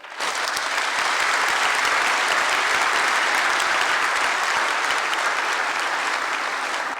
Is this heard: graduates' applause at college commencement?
yes